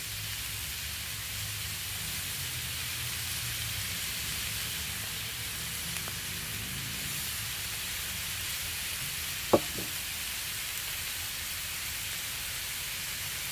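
A 16-ounce ribeye steak sizzles on a Blackstone griddle, a steady broadband frying hiss held at a constant level throughout, with one sharp click or tap near the end and no talking.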